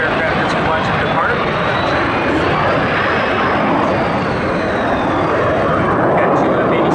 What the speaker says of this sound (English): Got two F-86s in the skies over northern Illinois right now